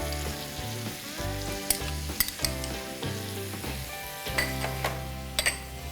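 Broccoli fries with ketchup and chili sauce in a pan, giving a loud, busy sizzle and bubbling up close, with several sharp clicks and scrapes as it is stirred; no one speaks.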